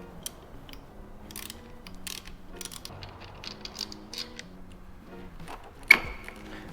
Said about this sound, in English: we're going to remove this 6mm hex for the clip-on